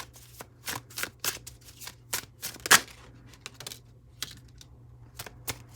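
Tarot cards are shuffled by hand in quick, irregular bursts of riffling and slapping, close and fairly quiet, with one sharper flick as a card flies out.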